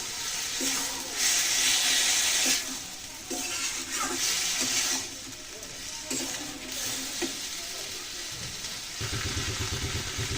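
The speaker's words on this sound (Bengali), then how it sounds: "বাটিটা দিয়ে একটু জল দিয়ে দেবো।" Water splashed from a bowl into a hot pan of spiced soybean and potato curry, giving a close, continuous hiss and sizzle with surges of louder bubbling and a few stirring knocks.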